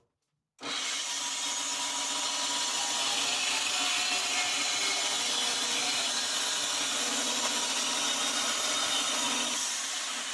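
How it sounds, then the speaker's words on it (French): A band saw starts up after a brief silence and cuts charred wood in a loud, steady, rasping whine that holds unbroken until the end. "je vais éplucher un peu comme une pomme de terre avec ma scie à ruban"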